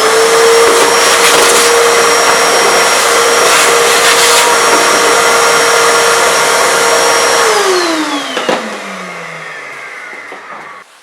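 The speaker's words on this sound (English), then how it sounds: "take your vacuum cleaner, put it inside, vacuum everything" A vacuum cleaner cleaning a car's air filter box runs with a steady, loud whine, then powers down, its pitch sliding lower as the motor winds to a stop.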